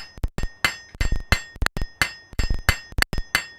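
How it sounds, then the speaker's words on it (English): In a smithy, a blacksmith's hammer strikes hot metal on an anvil about a dozen times in a steady rhythm. Each sharp blow rings out bright and close, and the blows sometimes come in quick pairs. "Just by working either side of it with the rounded side of the hammer."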